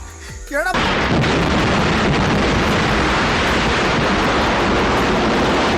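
A miniature fireworks factory model explodes in a film scene: a sudden, massive blast swells into a continuous, loud roaring rumble that fills everything and holds steady without letting up.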